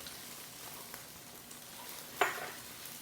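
Eggs fry in a hot wok for fried rice with orange chicken, a soft steady sizzle plus a sharp scrape of a utensil against the metal partway through, quiet and close.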